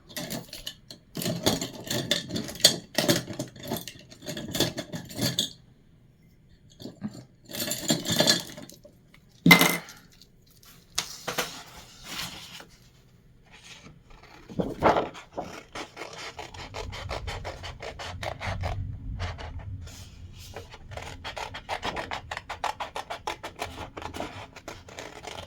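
Paper card stock being fussy cut by hand with scissors, giving close, irregular bursts of snipping and rasping rubs of paper with pauses between, some short clinks, and a low steady rustle later on; no talking.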